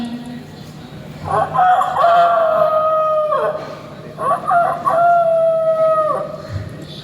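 A human voice imitates a rooster crowing twice in a mimicry performance at a school arts festival, each long drawn-out call rising and holding before trailing off, loud and close.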